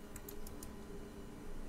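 A few quick, faint keystrokes on a keyboard of a GPD Win handheld PC, four light clicks in the first second followed by quiet background hum.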